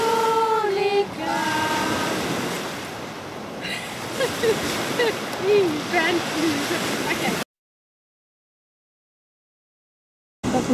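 Waves on a large lake at a campground in Alaska wash continuously as a broad rushing noise under voices and a harmonica, then cut to silence before briefly returning.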